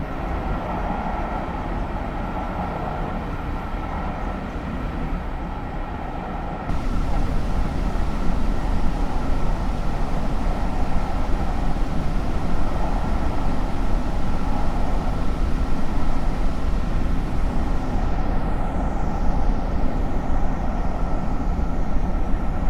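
A New Jersey Transit Arrow commuter electric multiple-unit train running, a steady loud rumble of wheels and traction motors that grows louder partway through and holds a constant drone, with no talking.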